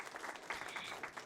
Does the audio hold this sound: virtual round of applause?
yes